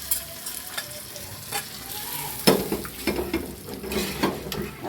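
Garlic and onion sizzling in hot oil with dried chillies, tempering lentil dal in a home kitchen, a steady close frying hiss with a spoon stirring and clinking against the pan.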